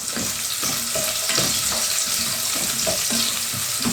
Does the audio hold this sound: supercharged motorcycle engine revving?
no